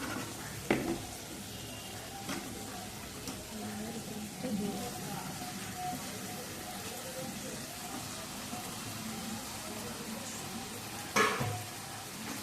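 Bombay duck (loté fish) hits a pan of cooked-down spice paste and sizzles steadily, a broad hissing fry with occasional sharper pops and scrapes throughout.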